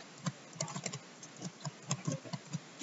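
Keystrokes on a computer keyboard while entering a heading in a teacher's electronic portfolio, soft irregular taps in short bursts, fairly faint and close, with no talking.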